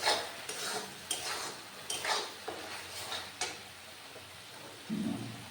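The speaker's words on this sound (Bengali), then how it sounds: "টমেটোটা মশলার সাথে ভালো করে মিশিয়ে নিতে হবে, এতে রান্নাটার স্বাদ ভালো হয়।" Tomato being stirred into spices in a cooking pan for a Bengali raw jackfruit curry, with a series of scraping, clinking utensil strokes at an irregular rhythm over a soft sizzle, close and moderately loud.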